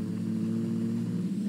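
Engine of a small Alto car driving on a racing track in GTA 5, a steady mid-pitched drone held at constant revs throughout, close and alone.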